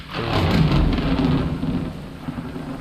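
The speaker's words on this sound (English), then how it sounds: "I added an immersive thunder mod. I hope that didn't scare you guys too bad." Rumbling thunder from an immersive thunder mod in Minecraft, a loud, deep rolling boom that swells and then slowly fades, heard alone with steady rain-like hiss underneath.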